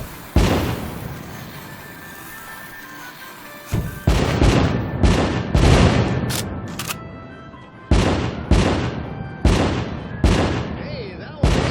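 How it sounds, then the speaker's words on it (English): Fireworks explode one after another in the VR game The American Dream, a series of loud booming bursts with crackling decays, arriving singly and in quick clusters and close at hand. "Light up those fireworks so I can enjoy the show."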